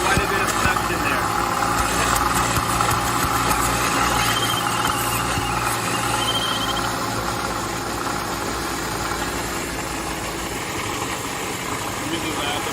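A loud Mercedes-Benz M156 engine, with both cylinder banks running lean, idles steadily with a constant low rumble and vibration that continues unchanged throughout. No other sounds stand out.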